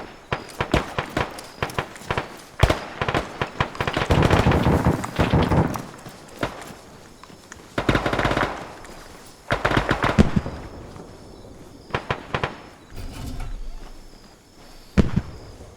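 Gunfire in a military video game, an ANZAC operation near an airfield runway, cracks out in dense irregular bursts and scattered single shots, loud and close, with brief lulls between volleys and no talk.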